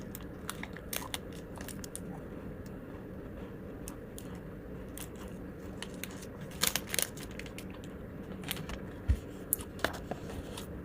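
A Tokyo Banana raisin cookie with an airy center is bitten and chewed close up, giving soft crunches and small crackles spread across the clip, with no talk.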